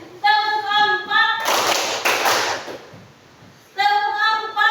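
A class performs a rhythmic clapping routine: a short burst of quick, close hand claps sits between stretches of sustained tonal voices, with a quieter gap before the voices return.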